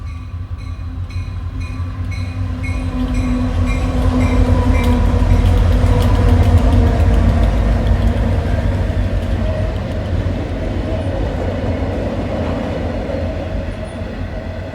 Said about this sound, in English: Here, a unit coal train rolls through the passenger station.